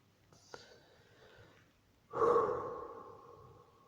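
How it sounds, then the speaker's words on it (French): A deep breath is drawn in during a pause in speech, soft and close, followed by a louder, sustained breathy exhale that fades out slowly. "Je fais une pause pour inspirer."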